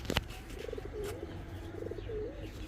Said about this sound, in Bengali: এখন দেখাবো আরও এক জোড়া রোড মাস্টার কবুতর